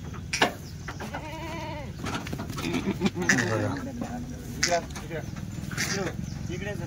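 Several Kathiawadi goats bleat in wavering cries at a livestock trader's, some near and some farther off, while people talk over the herd's calls.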